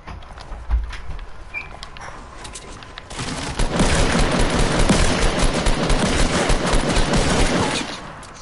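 Sustained rapid gunfire in a PUBG-style online shooter game, quieter at first, then a dense, loud volley of shots lasting several seconds.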